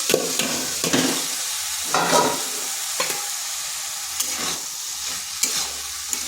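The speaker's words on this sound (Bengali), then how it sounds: "দিয়ে দিচ্ছি কেটে রাখা তরমুজের খোসাগুলো।" Cut watermelon rinds hitting hot spiced masala in a frying pan, a close sizzle with repeated stirring scrapes and soft clatters over a continuous frying hiss.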